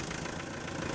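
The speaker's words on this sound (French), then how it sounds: "quel doux bruit qu'un moteur qui tourne" A car engine idles steadily after a jump start from battery cables, a continuous mid-low rumble with a faint knocking texture, fairly quiet and heard alone without voices.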